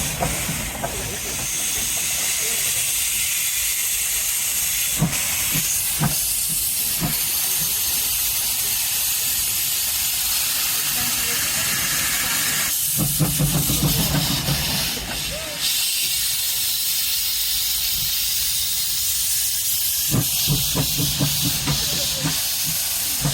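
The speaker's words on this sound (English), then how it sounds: "Steam locomotives can be exciting to watch, especially when their wheels slip like this" Steam locomotive with its driving wheels slipping, a loud continuous hiss of escaping steam running throughout, with rhythmic chuffing bursts breaking through at intervals.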